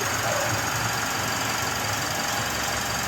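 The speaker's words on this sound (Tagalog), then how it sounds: "pa-start ko na itong makina." Mitsubishi Strada pickup engine idling steadily with a cleaned throttle body, a continuous mid-pitched hum with light knocking texture and no starter crank, running alone at moderate level throughout.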